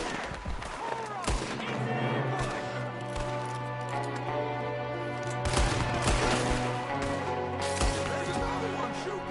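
Gunfire in Red Dead Redemption 2, with a shooter firing from a window: repeated sharp shots crack near and far over a busy game soundtrack, while voices talk intermittently.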